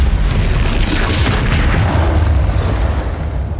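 Confringo explosion spell in Hogwarts Legacy: a loud, deep rumbling blast that fills the whole moment with heavy low-end boom and crackling debris, slowly easing off at the end.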